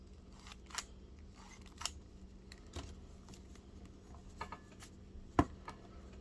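Masters of the Universe Origins toy figure with a dial on its back, giving a few sparse, faint plastic clicks at irregular intervals in an otherwise quiet room.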